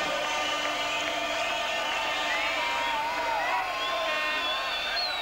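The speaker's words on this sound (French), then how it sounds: "Le public de Moucron lui est ravi. Il réserve une salve d'applaudissements pour son équipe." A Mouscron football stadium crowd cheers and applauds its team after a near miss, a steady roar of many voices with whoops and clapping, broad and continuous throughout.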